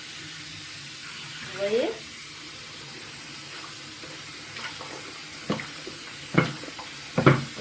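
Cold tap water runs softly and steadily while a wig is rinsed under it, with a few brief splashes and handling noises. A voice speaks briefly.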